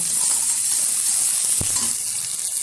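Egg omelette curry sizzles steadily in a pan while being stirred, a continuous bright hiss with one soft utensil knock partway through, close and fairly loud.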